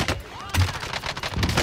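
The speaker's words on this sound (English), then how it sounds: "Oh, he's shooting." Bursts of enemy gunfire in Warzone, a few sharp cracks spread across a busy battle mix, fairly loud with some competing game noise.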